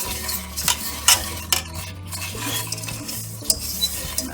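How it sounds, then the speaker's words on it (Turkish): Egg yolks whisked with sugar in a bowl, steady close scraping and clinking strokes over a low hum, no speech. "Şekerle yumurta sarısını biraz böyle karıştıracağım."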